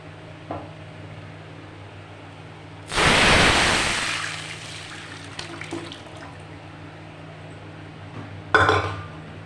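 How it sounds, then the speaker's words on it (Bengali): Masoor dal cooked with olives is poured into a hot pan, setting off a sudden loud sizzle that slowly fades, followed later by a brief clatter, all over the steady hum of a kitchen fan. "এবার আমি ডালটা ঢেলে দেবো"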